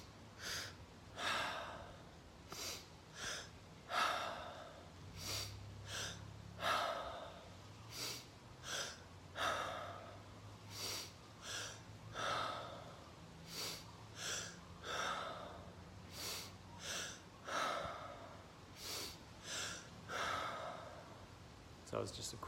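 Priming-breath breathwork, with repeated cycles of two quick sharp inhales through nose and mouth followed by a longer audible mouth exhale, close and rhythmic over soft background music.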